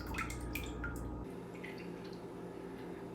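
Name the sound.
home-brewed beer draining out through a hose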